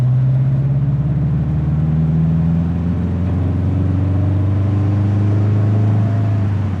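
A built 2005 Subaru STi on a shakedown drive gives a steady, close engine drone with a low hum, heard from inside the car with no talking throughout.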